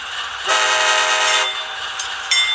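A synthesized horn on an HO scale Norfolk Southern AC44C6M model locomotive blasts for about a second, followed by two brief beeps, over a faint background hum.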